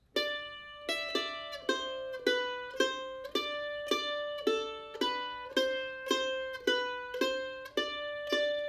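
A mandolin plucks a steady, evenly spaced stream of notes, each struck twice in a regular pulse, ringing clearly with no talking.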